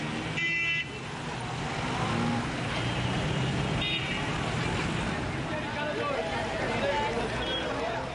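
Mumbai road traffic before sunrise, with water tankers among the vehicles, forms a steady roar of engines with scattered horn toots and a background murmur of voices.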